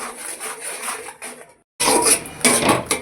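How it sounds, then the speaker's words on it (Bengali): A spatula scrapes and stirs almond-poppy paste with salt, turmeric and chili powder in a pan, rough rubbing strokes with a brief pause, then louder scraping and sizzle. "এবার সব কিছুকে একসাথে একটু কষিয়ে নেব।"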